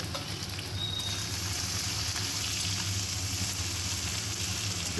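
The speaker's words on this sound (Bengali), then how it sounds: "কড়াইতে তেল গরম হয়ে এলে ফোড়নে শুকনো লঙ্কা পাঁচ ফোড়ন জিরে দিয়ে পেঁয়াজ কাঁচা লঙ্কা কুচি দিয়ে নাড়াচাড়া করব" Dry red chilli, five-spice, cumin, chopped onion and green chilli frying in hot oil in a wok for stir-fried water spinach, a steady close sizzle that holds evenly without talk.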